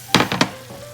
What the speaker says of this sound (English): Now we're gonna add in our broccoli, the steamed broccoli